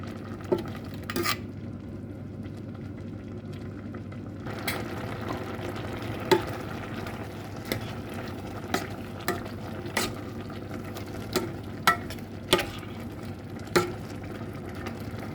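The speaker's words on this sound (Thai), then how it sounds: "ล้างทำความทำสะอาดดีๆ แล้วก็มาผัดค่ะ ผัดเหมือนหอยลายนะคะ" Cleaned freshwater snails are stir-fried in a pan, their shells clicking and clattering against the metal in a string of sharp, separate knocks over a steady low frying hiss, close by, with no voices.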